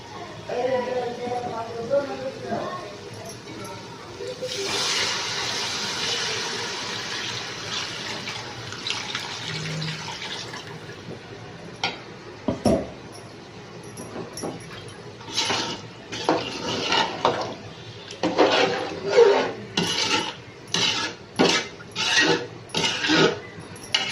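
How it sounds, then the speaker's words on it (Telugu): Water runs into a pot with a steady rush, then a series of clanks and splashes as the pot is handled, with speech at times. "ఇప్పుడు మనం వాటర్ వేసేసుకుందాము"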